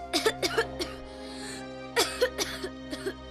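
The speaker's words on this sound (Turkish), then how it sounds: "Öksür şimdi." A series of sharp coughs in two clusters during a medical examination, several quick bursts, then a pause, then another run, close and fairly loud over a steady low hum.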